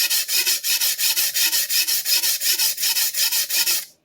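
Clyde Cutlery chef knife heel being sharpened on a stone: about twenty steady, evenly spaced scraping strokes with a bright, ringing rasp, close and loud, stopping abruptly at the end.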